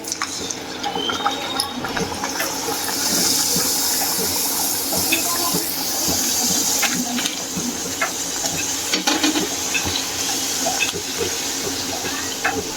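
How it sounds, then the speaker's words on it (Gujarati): Puris deep-frying in hot oil, giving a steady bubbling hiss with faint crackles that runs for the whole stretch at close range, with no talk over it. "અહીંયા તેલ ગરમ થઈ ગયું છે અને આપણી પૂરી વણાઈને રેડી થઈ ગઈ છે તો આપણે હવે પૂરી તળીએ"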